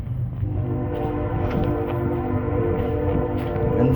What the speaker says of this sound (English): Now we have a train.